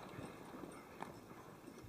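Draft horses once used to haul timber out of forests race along with hooves clip-clopping. The hooves sound faint and distant in a steady rhythm against a low background wash.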